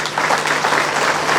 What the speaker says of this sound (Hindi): हम लोग तालियां बजा देंगे।